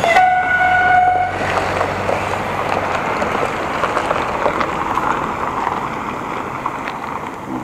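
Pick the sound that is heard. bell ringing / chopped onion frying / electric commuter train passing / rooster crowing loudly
electric commuter train passing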